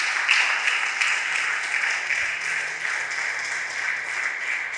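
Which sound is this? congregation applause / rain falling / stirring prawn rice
congregation applause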